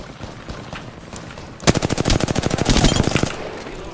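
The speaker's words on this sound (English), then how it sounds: "The enemies are shooting at me" Enemy gunfire in a video game: after some faint scattered shots, a loud rapid automatic burst lasting about two seconds rattles off in a fast, even rhythm.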